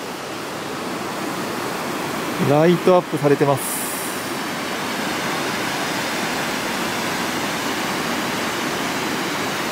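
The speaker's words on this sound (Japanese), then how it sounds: "滝の音が聞こえますね。" Shirahige waterfall in snowy winter Hokkaido gives a steady, broad rush of falling water that fills the whole clip, with a brief spoken phrase near the start.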